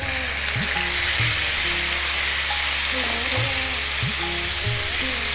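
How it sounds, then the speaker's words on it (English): Lamb pieces on the bone sizzle loudly in hot oil infused with cardamom, cinnamon and cumin over high heat, a steady dense crackling hiss with occasional scraping and clinking of a utensil against the pan. "And then what we're going to do is we're going to drop in our meat."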